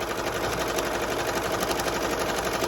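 An embroidery machine stitches a placement outline for a bow tie onto a long-sleeve shirt, a steady, loud, fast mechanical chatter running continuously with no pauses.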